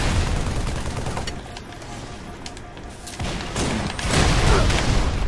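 Gunfire and a grenade blast in the Halo video game: a dense, continuous barrage of shots and booms, swelling louder toward the end.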